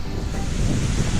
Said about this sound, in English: A waterfall alongside.